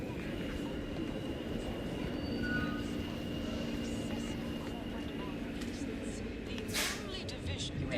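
Train ambience in the video game The Outer Worlds 2: a steady low rumble and rolling drone of a moving train carriage, continuous and moderately loud, with a brief brighter swell near the end.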